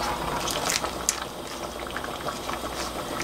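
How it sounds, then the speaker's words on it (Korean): A pot of Korean pork bone stew with potatoes, onion, chili peppers and green onion simmers at a rolling boil, giving a steady bubbling and crackling hiss with occasional louder pops throughout. "이렇게 해서 딱 20분만 끓이겠습니다"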